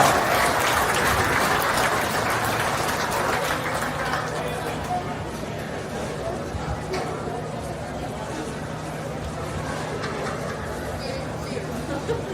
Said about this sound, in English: let's give all of these beginners a real good deserving round of applause.